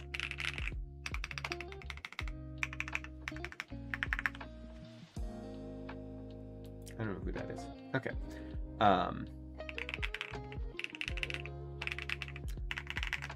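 Keys clack in quick bursts on a Womier ERA75 mechanical keyboard with stock switches and foam dampening, giving crisp, close clicks separated by short pauses, with someone briefly talking midway.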